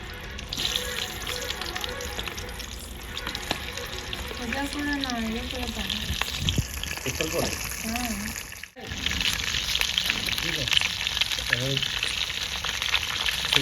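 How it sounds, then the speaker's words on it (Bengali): Stuffed capsicums fry in a little oil in a covered pan, giving a steady, close sizzle that runs throughout, with a voice talking over it for a few seconds partway through. "এটাকে ঢাকা দিয়ে ভাজতে হবে বন্ধুরা আর অল্প তেল দিয়ে দেবো"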